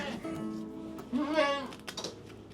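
A baby goat bleats close by, with a clear wavering cry followed by a second shorter bleat, over quiet background rustling.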